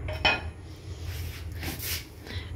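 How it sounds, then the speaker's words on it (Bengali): An iron wok and a clay lid handled in a kitchen, giving a sharp clank near the start followed by softer scraping and knocking of cookware, close and fairly quiet. "এই লোহার কড়াই আর মাটির ঢাকনাটা আমার শাশুড়ির।"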